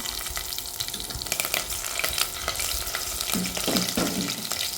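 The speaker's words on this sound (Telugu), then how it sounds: "మసాలాలు వేసి అవి కొంచెం బాగా వేగిన తర్వాత పచ్చిమిరపకాయలు వేస్తాను ఇప్పుడు" Green chillies frying in hot oil with whole spices for tomato rice, a steady dense sizzle close up with occasional stirring scrapes of the pan, no voices.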